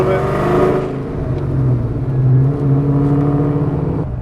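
Ford SVT Terminator Cobra with upgraded brakes pulling away gently on a cruise, its engine rumbling and building in steady low tones from inside the car.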